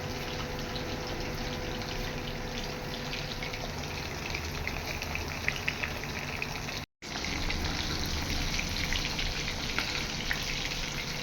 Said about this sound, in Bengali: এই যে দেখুন, সব মাছ ভাজা হয়ে গেছে